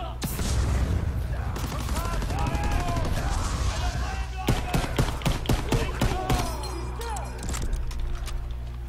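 Rapid rifle and machine-gun fire from the Call of Duty World War II video game crackles in dense bursts, building into a sharp flurry of close shots, with in-game voices talking underneath.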